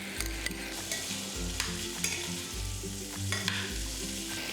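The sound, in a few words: stir-frying sliced garlic with pork belly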